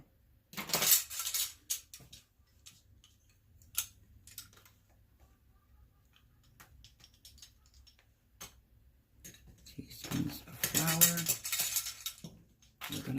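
A utensil clinks and scrapes around a bowl while blueberries are tossed in flour, with a busy burst at the start and a longer stretch of mixing near the end, quiet in between.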